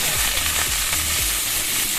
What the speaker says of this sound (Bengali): আমি ভাজা করছি আলু দিয়ে, পেঁয়াজ দিয়ে, বরবটি দিয়ে, আর অল্প একটু চিচিঙ্গা ছিল।